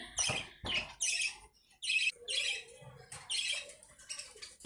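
Pigeons at a farm, including a pair of 9–10 feather grizzle birds, give sharp squawking calls in repeated close bursts with short gaps between them.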